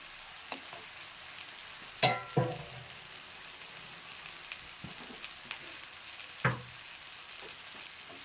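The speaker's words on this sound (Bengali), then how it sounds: "তেল ছেড়ে দিয়েছে তো এবার আমি মাছটা আর আলুটা দিয়ে একটু কষিয়ে নেব" Rithe fish and potato pieces being sautéed in hot oil with a cooked spice paste: a soft, steady sizzle with a few sharper clatters and stirring knocks, fairly quiet and close.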